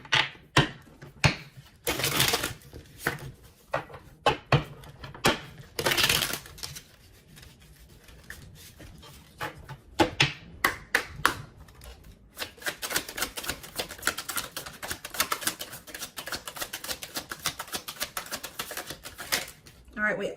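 Tarot cards are shuffled and drawn, with sharp scattered snaps early on giving way to a rapid, papery run of riffling clicks, while a voice talks throughout.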